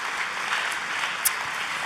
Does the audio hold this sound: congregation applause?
yes